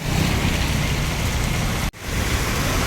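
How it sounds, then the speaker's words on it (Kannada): Heavy rain pours down in Coorg city, a dense, steady hiss of downpour that stays loud and continuous with only a momentary break near the end. "ಸೊ ಸಿಕ್ಕಾಪಟ್ಟೆ ಮಳೆ ಎಲ್ಲ ಇದೇ ಥರ ಇದೆ"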